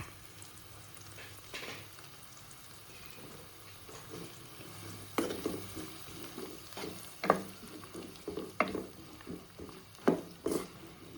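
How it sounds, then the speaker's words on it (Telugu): Chopped onion pieces fry in oil in a pan for a cluster bean dish, a steady soft sizzle broken by intermittent sharp clacks and scrapes of stirring that grow busier in the second half. "అదే నూనెలో చిన్నగా తరుక్కున్న ఉల్లిపాయ ముక్కలు"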